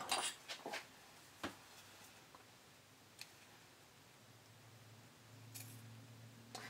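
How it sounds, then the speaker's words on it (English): Scissors trim fabric seam allowance on an underwire bikini top, making a few quiet, close snips clustered at the start and scattered later, with faint handling rustles in between. "I trim it back to about a quarter of an inch."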